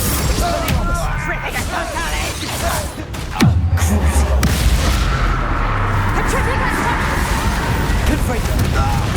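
A heavy blast from the Confringo spell booms in a Hogwarts Legacy fight, a loud impact followed by a low rumbling tail amid ongoing combat noise and voices.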